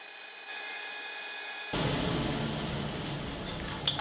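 Fine half-inch, 10-teeth-per-inch band saw blade cutting a poplar board on an automated slicing jig, sped up five times: a steady high whine that turns into a louder, rougher cutting roar partway through.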